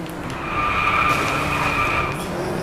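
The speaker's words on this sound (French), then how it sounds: "il faut que je fasse des dérapages juste sur cette petite portion pour essayer de relever ce challenge" Tyres skid and squeal continuously as a car drifts through a corner at dusk in the racing video game Driveclub, engine droning underneath at steady, fairly loud volume with no talking.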